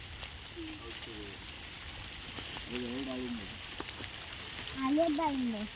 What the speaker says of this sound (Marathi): पाऊस परत चालू झाला